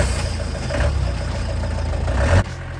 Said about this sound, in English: The only problem is you're then driving behind that awful diesel clatter.